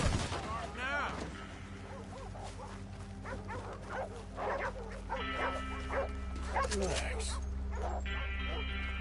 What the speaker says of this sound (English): I'll keep these dogs at bay.